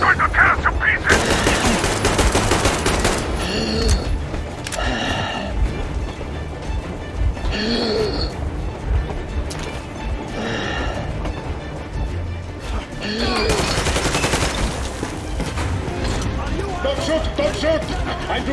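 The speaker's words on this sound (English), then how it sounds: "Fire at will!" Gunfire rattles through a firefight in the video game Metro Exodus, with loud bursts of automatic and single shots in waves under shouting voices, with crashes and quieter gaps between volleys.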